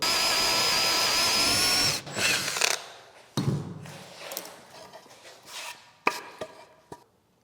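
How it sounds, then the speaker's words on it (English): A power drill bores a finger hole through a wooden cutting board, a loud high whine for two seconds, then bumps, clunks and handling knocks as the bit breaks through and stops. "and then drill through the wood."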